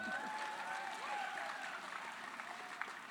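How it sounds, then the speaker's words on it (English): Audience applauding in a full theater at a film festival introduction, a steady patter of clapping heard from a distance, fairly faint and even throughout. "Thank you so much for applauding."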